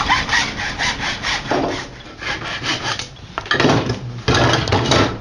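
Hand saw cutting through wood for a flute, close and loud, with rhythmic back-and-forth rasping strokes at a steady pace and brief pauses between strokes, no talk.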